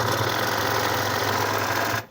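A sewing machine stitches velvet hoodie fabric, a loud, close, steady whirring hum with rapid needle rhythm that runs continuously and then stops abruptly at the end.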